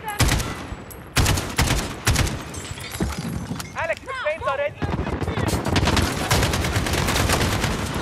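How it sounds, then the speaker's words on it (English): Dense rapid gunfire from a Modern Warfare campaign mission, loud bursts nearly continuous across the clip with a short break of lighter sounds midway and a voice talking over the shooting. "Dude, I love the way the gun sounds."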